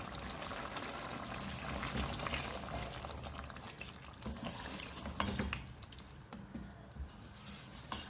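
Blended puree of two medium tomatoes poured into a pan of browned, oil-released meat for a mutton bhuna gosht, giving a steady close wet pouring and sizzling wash that runs throughout with a few soft clinks.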